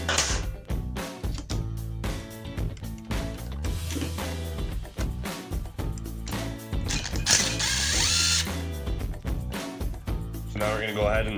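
A ratchet wrench clicks as it turns a 1/4 inch socket on a CRF dirt bike engine during a rebuild, with busy rhythmic mechanical sound and a person talking throughout.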